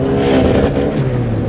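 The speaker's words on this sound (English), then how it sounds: "Well, I definitely heard wastegate." A boosted Honda engine with an external turbo wastegate revs hard nearby, a loud continuous rasp with rising pitch and a breathy venting hiss mixed in.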